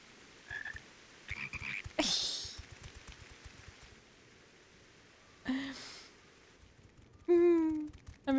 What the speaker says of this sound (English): I'm in love with the toads.